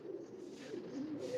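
Cooing from a three-cross breed pigeon, a Teddy King bird, comes as a soft, steady low murmur that runs throughout, close and fairly quiet, with no talk over it.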